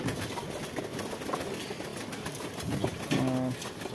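Soft, low cooing of a royal teddy pigeon over a busy background murmur, with a clearer tonal coo near the end.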